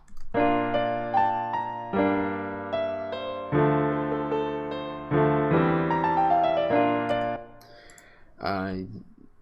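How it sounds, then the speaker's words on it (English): A slow, sustained Yamaha grand piano melody, low end EQ'd off, with rich ringing chords, each phrase swelling and fading, ending with a short warbling sweep. "I started out with this Yamaha grand piano."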